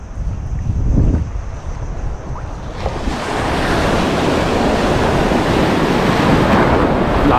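Strong ocean surf crashes and rolls near the shore during an ultralight fishing outing, with wind buffeting the microphone; the roar swells and becomes a constant, loud wash of waves and gusts.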